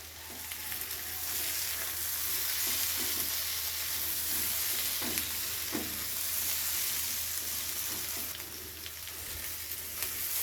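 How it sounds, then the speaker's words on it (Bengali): Okra and potatoes fry over a high gas flame in a steady, loud hiss of oil, with occasional soft stirring scrapes breaking through the continuous sizzle. "তো গ্যাসের ফ্লেম জোরে করে দিয়ে আমি একটু লাল লাল করে ভাজা ভাজা করে নিলাম।"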